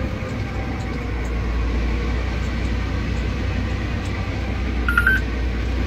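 A tractor guidance system gives a short electronic beep on syncing alongside a grain cart while an auger runs during harvest, the tone rising clearly over a steady, loud engine and machinery rumble.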